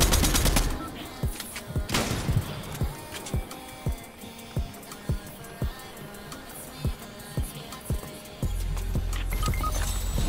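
Rapid gunfire in a video game: a burst of shots, then a steady run of evenly spaced, sharp, loud reports that ends in a sustained roar.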